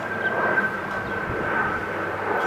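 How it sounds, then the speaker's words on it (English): A fixed-wing airplane passes overhead as a continuous broad, distant roar with a faint steady whine, filling the whole stretch at moderate loudness. "That's a plane,"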